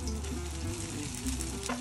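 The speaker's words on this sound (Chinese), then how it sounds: "锅里放黄油，下牛蛙" Flour-dusted frog legs seasoned with salt and white pepper hit melted butter in a pan, giving a dense, close, continuous sizzle and crackle with faint stirring.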